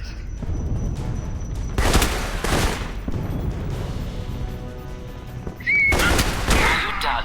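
Bursts of gunfire in the video game Alpha Protocol, several loud broadband volleys separated by quieter stretches, with the last burst heavy and sustained near the end.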